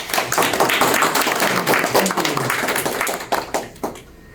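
Workshop attendees give a speaker on Chicago-style citations a round of applause, a close, dense patter of many hands that thins to a few last claps near the end.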